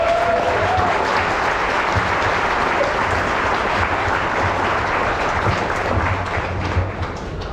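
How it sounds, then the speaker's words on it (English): An audience at a Coasterstock 2023 roller coaster presentation claps in sustained, loud applause that stays steady for several seconds before easing slightly at the end. "we give them a round of applause"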